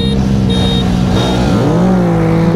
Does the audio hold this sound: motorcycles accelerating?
yes